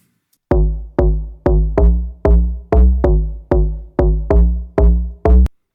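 A plucky synth bass plays eleven short, punchy notes in a steady rhythm, each with a sharp attack and quick decay, loud and alone.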